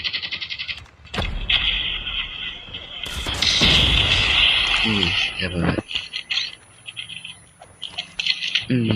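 A loud flash grenade bang in Call of Beauty Mobile is followed by a sustained high-pitched ringing tone, while people talk excitedly throughout.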